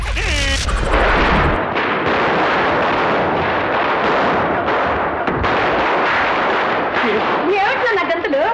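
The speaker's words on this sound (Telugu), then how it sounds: "టపాకాయలు కాల్చిపోతే ఎలా?" Festive Diwali firecrackers burst in a dense, continuous crackle and boom, loud and close, with voices shouting over the din.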